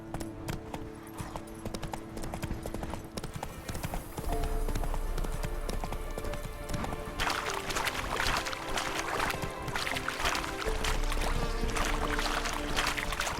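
Roach's hooves clip-clop at a gallop in The Witcher 3: Wild Hunt, running under loud game music and ambient effects that swell partway through, with a rushing, watery texture near the end.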